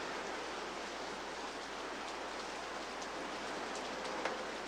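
Steady rain falls in an even, continuous hiss, with faint scattered drops standing out now and then.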